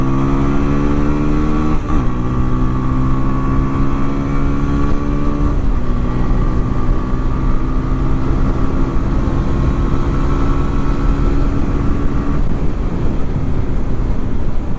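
A TVS Apache RTR 160 4V 20th Anniversary Edition motorcycle accelerating hard, loud continuous engine whine climbing in pitch through several gear shifts, heard close from the rider's position with wind noise.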